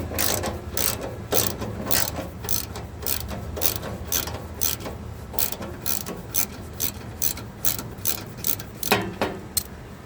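Ratchet wrench backing out a 1/2 inch bolt on a John Deere 216 tractor fender, with rapid rhythmic clicking bursts repeating steadily and close up, no talk.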